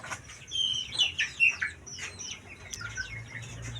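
Village chickens in a poultry pen give short, high clucks and chirpy calls in quick irregular bursts, close by over a low background hum, with no talk.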